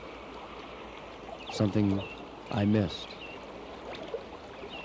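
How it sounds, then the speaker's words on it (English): A stream's rushing water runs as a steady broadband wash through an outdoor summer scene among trees, with a voice speaking briefly over it twice. "the rushing of the water"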